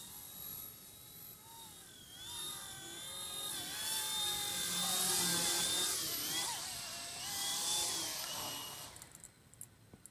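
A mini-scale RC helicopter whines in flight with a steady high-pitched rotor and motor tone that rises and falls as it moves around nearby, then drops off near the end.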